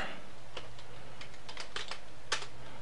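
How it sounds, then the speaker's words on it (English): Light tapping on a computer keyboard, a handful of scattered keystrokes at an irregular pace, close and fairly quiet over a steady low hum. "type some value"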